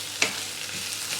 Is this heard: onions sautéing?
yes